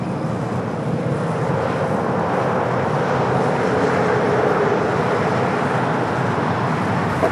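An airliner lands on runway 25 left at LAX, a steady, loud engine roar that holds over several seconds against a background hum of distant traffic.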